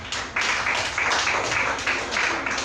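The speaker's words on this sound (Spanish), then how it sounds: "den un aplauso a Cristo." A congregation in church applauds for Christ, with dense, lively clapping that swells in rhythmic waves for a few seconds.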